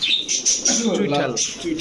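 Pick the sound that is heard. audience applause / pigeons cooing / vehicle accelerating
pigeons cooing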